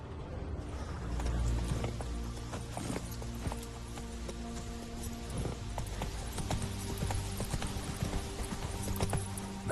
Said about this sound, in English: Лошадь будемо визивати.